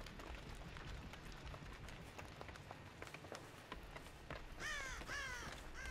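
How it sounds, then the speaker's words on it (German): Crows caw in the Dead by Daylight video game, a short burst of harsh calls rising near the end over a busy, low-level game soundscape. "Scheiß Raben, ey."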